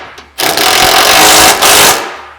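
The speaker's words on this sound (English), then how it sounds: "Hardware installed, just go ahead and fully tighten it." A loud power tool whirs steadily for about two seconds as it tightens roof rack hardware nuts on a CFMoto UForce 1000, dipping briefly mid-run before stopping, with no talk.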